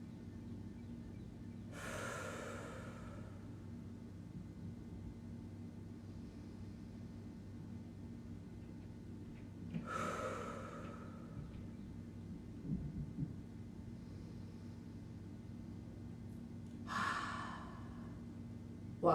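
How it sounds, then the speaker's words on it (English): Three slow, deep breaths during a yoga stretch, each a long, close exhale spaced several seconds apart over a quiet room hum. "take 3 deep breaths here"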